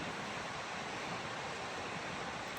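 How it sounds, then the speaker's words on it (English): A river flowing beside a trail at about 5,400 feet, a steady broadband rush of water with no breaks, moderately faint and without voices. "Right now, sitting by the river,"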